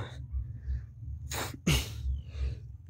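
A single sharp human sneeze bursts out close and loud outdoors during a bird hunt in the brush, preceded by a quick inhaled breath, over a low steady background rumble.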